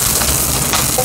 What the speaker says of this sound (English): So we'll cook these stems just for a second.